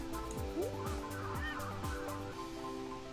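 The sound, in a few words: birds attacking in a video game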